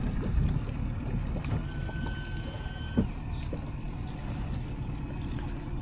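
A boat engine runs with a steady low rumble and drone throughout, with some faint clunks and a brief knock near the middle, on a boat moored near the Corfu fortress.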